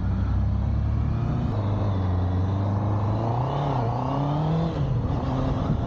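Honda CB 650R motorcycle engine hums while riding, its pitch wavering and climbing gently as throttle changes, close and steady beneath wind noise with no talk.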